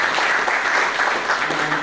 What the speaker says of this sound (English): Mr. Raja Azad deserves a round of applause for bringing us together